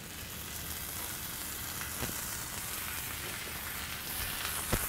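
Thin pancetta slices fry on a hot griddle held near 300 degrees Fahrenheit, giving a dense, even, steady sizzle with a single small clack near the end.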